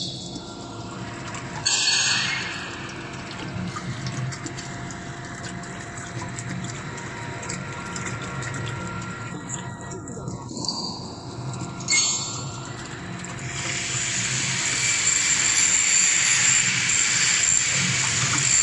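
A horizontal ribbon mixer runs at slow speed as water is added, giving a steady broadband churning and liquid rush with a hissing pour that swells louder toward the end.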